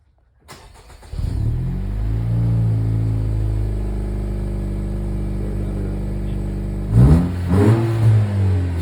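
A Honda Accord engine cranks and starts, settling into a deep rumbling idle through a throaty custom exhaust, then revs up sharply a couple of times.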